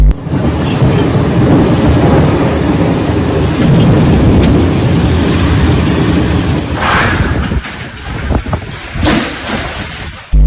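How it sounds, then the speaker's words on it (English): A heavy thunderstorm over Makkah: a dense, loud roar of pouring rain with rumbling thunder throughout, easing into patchier splashes and drips toward the end. "Heavy rain fell on Tuesday evening, accompanied by thunderstorms in separate areas of the Makkah al-Mukarrama neighborhood"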